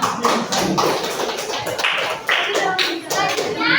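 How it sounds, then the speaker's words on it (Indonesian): A classroom group in an emotion-management guidance lesson claps together, a close, dense patter of hand claps filling the room with uneven swells and a few slightly louder bursts. "Tepuk tangan lagi dong"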